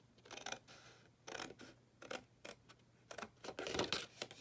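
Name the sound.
cutting through paper along score line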